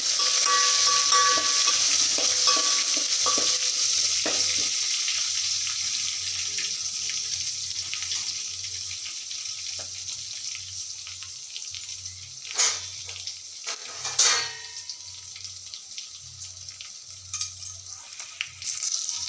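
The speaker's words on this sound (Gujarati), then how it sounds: "હવે લીમડો અને હિંગ પછી હલાવશું" Curry leaves and asafoetida frying in oil for a tangy tomato chutney, with a steady hiss that softens over time, broken by a few sharp crackles and scrapes of stirring near the end.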